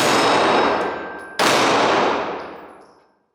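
A 9mm Glock 17 Gen 5 round strikes a steel target: a sharp metallic clang rings out after the shot, then rings and fades slowly over a couple of seconds.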